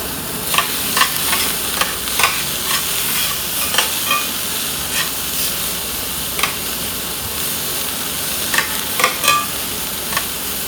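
Broccoli and garlic stir-frying in a pan, a continuous sizzle with repeated scraping stir strokes at an uneven rhythm, close and alone without speech.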